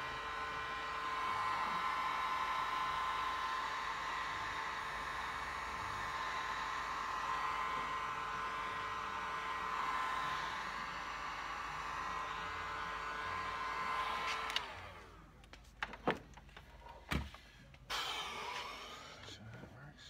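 A heat gun blows a steady, loud hot-air whoosh while shrinking heat shrink tubing over motorcycle handlebar wires, then switches off, leaving a few scattered handling clicks and knocks.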